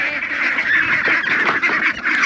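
A flock of ducks calls at their evening feeding, a dense, continuous chorus of nasal honking and quacking close by, loud and overlapping without a break.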